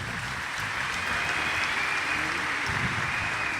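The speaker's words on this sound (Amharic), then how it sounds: "አጨብጭቡለት።" An audience at an Ethiopian religious gathering applauds in a steady, dense wash of clapping that holds for the whole stretch, loud and continuous with faint voices underneath.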